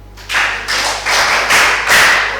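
Students in a school classroom clap for a classmate after a drug-awareness talk, in a few loud, close bursts of clapping that swell and fade in waves, each burst a bit louder than the last.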